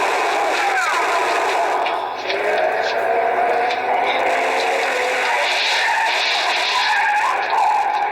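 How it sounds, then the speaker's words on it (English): A car screeches away with long, loud tire squeals and engine noise sustained for several seconds, part of an old radio drama. "See the car, the one that just gunned out."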